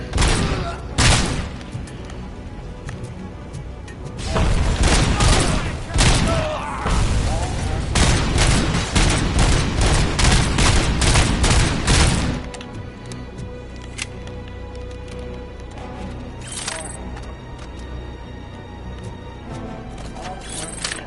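Heavy shotgun blasts from the OCP shotgun in the RoboCop video game, several loud booming shots in quick succession with crashing impacts, followed by quieter game ambience and a voice speaking.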